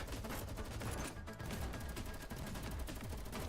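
Dense rapid gunfire fills the scene in the shooter game GFL2: Exilium, continuous overlapping shots crackling at steady loudness throughout without pause.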